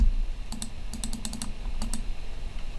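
Keys clatter on a computer keyboard in quick small clusters of crisp clicks, close and fairly loud over a steady low hum, with no voices, as a Control C copy shortcut is pressed.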